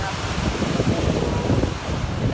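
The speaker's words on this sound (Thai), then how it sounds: "คลื่นทะเลใหญ่ครับ" Big ocean waves crash onto the shore in Australia, close and loud, in a continuous churning roar of surf with heavy wind buffeting the microphone.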